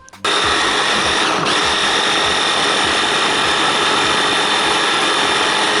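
A blender spins hard to chop ginger finer, its loud, steady motor whir kicking in almost immediately and holding a constant pitch throughout.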